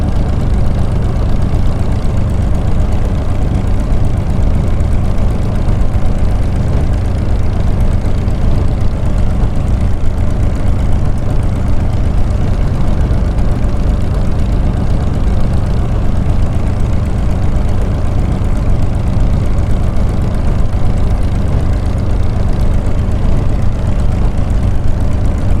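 Loud, steady low-pitched drone of an aircraft engine idling on the ground after taxiing in Microsoft Flight Simulator 2020, constant and unbroken with no voices.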